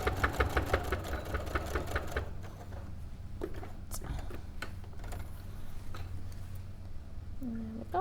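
A Brother sewing machine stitches in a quick rhythmic patter for about two seconds, then stops, leaving quieter handling noises and faint clicks with a brief voice at the end.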